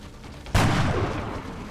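A sniper rifle fires once in a video game, a sudden loud boom that follows quieter background sound and then fades into a long reverberant tail.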